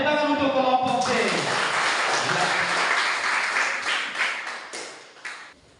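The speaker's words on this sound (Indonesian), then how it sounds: "Oke, tepuk tangan untuk kelompok C." Students in a classroom applaud a student group. A brief spoken voice comes first, then a burst of dense clapping that thins out and fades toward the end.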